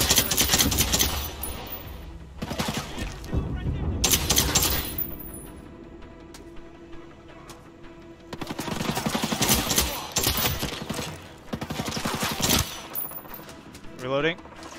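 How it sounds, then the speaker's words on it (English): Bursts of automatic gunfire in the tactical shooter game Ghost Recon Breakpoint, played in co-op with the Spartan Realism mod, crackle in several loud volleys with short pauses between them, and a voice comes in briefly near the end. "All right, feel free to open fire."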